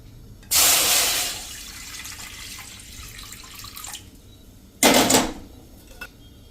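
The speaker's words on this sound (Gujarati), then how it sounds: "તો પાછું હું પાણી નાખી દઉં છું" Water pours into a cooking pot of green chillies being boiled, in two separate bursts, a longer gush and then a brief splash, against quiet kitchen background noise.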